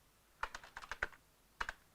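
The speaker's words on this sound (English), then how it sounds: "And if I continue typing" Quick bursts of keystrokes on a computer keyboard, close and quiet, with a short cluster of taps, a pause, then two more presses.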